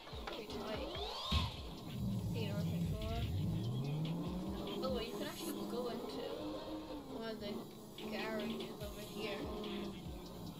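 Car engine revving and swooping in CarX Drift Racing Online, loud and sustained with rising and falling pitch as the car drifts, tyre noise underneath, and someone talking over it.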